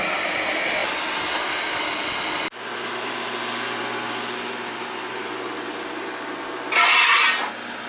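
A field power venter runs with a steady, rough whooshing roar, then drops abruptly and restarts into a lower hum with a tonal drone, followed by a brief louder hissing surge near the end, close and continuous.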